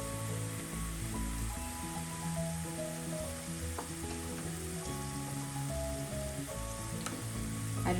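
Turmeric, Kashmiri chilli, coriander and garam masala powders fry in oil for bhindi masala, a continuous steady sizzle with occasional stirring scrapes, moderately quiet with no talk.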